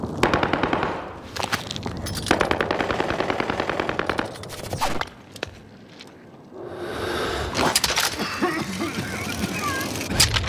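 Rapid bursts of automatic gunfire in the Warzone video game crackle loudly in repeated volleys with short gaps, while a player talks excitedly over the shooting.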